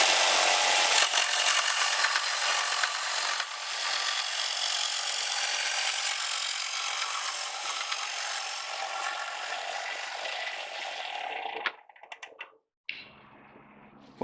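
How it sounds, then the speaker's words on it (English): Belt sander smoothing the wooden back of a mandolin, a loud, steady, close abrasive roar held for about eleven seconds before cutting out into a few short bursts and quiet shop noise. "Some of these big places right here, I'll go ahead and do on the belt sander"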